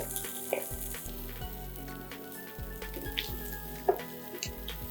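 Sizzling and frying in a pan as coarsely mashed medium potatoes go in for a vada pav filling, with steady close crackle, a few soft stirring knocks and no voices.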